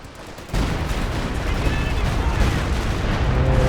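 A Stuka dive bomber attack in Company of Heroes 2: a sudden heavy roar and rumble of blasts and gunfire that begins abruptly and keeps up loud and dense until the end.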